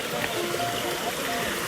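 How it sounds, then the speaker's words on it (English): A jungle river flowing near Thottikallu Waterfall in Karnataka, a steady broadband rush of water running continuously at moderate loudness with no clear speech over it. "It's a river, which they know as a waterfall,"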